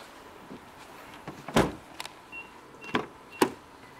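Electric windows on a Nissan Qashqai N-TEC DIG-T whirring in several short bursts, each ending in a soft thud, quiet and close inside the car.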